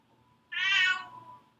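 A single clear, close cat meow, drawn out for about a second against a quiet background, with no talking.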